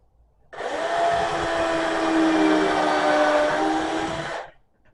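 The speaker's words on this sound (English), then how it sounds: "We're going to drill and countersink." A power drill whirs at a steady high pitch for about four seconds while drilling and countersinking screw holes in wood for a picnic table, starting and stopping sharply; close and loud, no voices.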